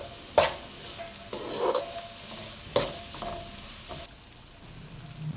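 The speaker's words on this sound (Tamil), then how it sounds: "பூண்டோட பச்சை வாசனை போனதும் கேரட், பீன்ஸ் அப்புறம் பச்சை பட்டாணி போட்டு வதக்கிக்கலாம்" Carrots, beans and green peas being sautéed in a pan with garlic for egg fried rice, giving soft intermittent stirring scrapes and light sizzling, close and quiet, with no talk.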